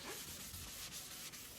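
A wet scuff pad scrubs dead gel coat on a boat, giving a soft, faint rubbing swish that repeats in short strokes with no talking.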